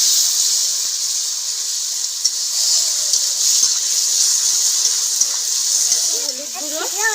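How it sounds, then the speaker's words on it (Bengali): A steady hiss of spice-rinse water poured onto ground onion, cumin and chili paste in a hot pan, continuous and close, ending with a few rising squeaky tones near the end. "এর মধ্যে একটু মশলা ধোয়া জল দিয়ে দিচ্ছি।"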